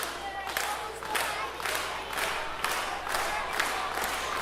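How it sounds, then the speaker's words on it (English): Wrestling crowd at an RCWA show cheering and applauding, a loud sustained roar with rhythmic clapping bursts about twice per second, like a stomping chant filling the arena. "Crowd showing their appreciation."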